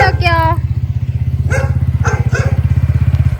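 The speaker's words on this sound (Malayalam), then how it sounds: "ഉപ്പിച്ചിന്റെ സ്കൂട്ടി ആയിട്ട് പോവാ" A scooter engine putters close by in a fast, even rhythm as it drives away, while a few short voices speak over it.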